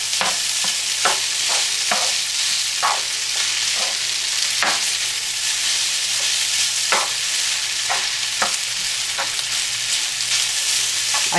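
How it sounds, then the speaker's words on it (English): Homemade noodles fry in a pan on a burner set to high, giving a loud, continuous sizzle broken by frequent scraping stirs. "I keep my burner on high because I want to fry them real well so they get a little crispy"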